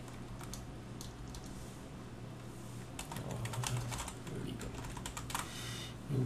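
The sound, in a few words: typing on a computer keyboard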